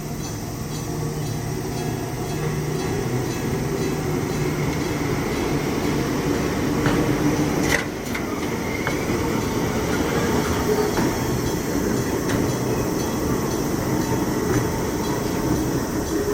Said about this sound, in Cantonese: 電車咁。